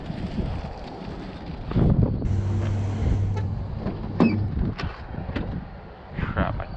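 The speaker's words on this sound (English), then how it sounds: "So it's windy as heck out here." Strong outdoor wind in the Florida Keys buffets the microphone, producing a continuous, loud, rumbling roar that swells and eases throughout.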